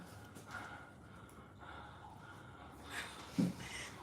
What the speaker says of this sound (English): These guys are breathing like they just ran a marathon race now.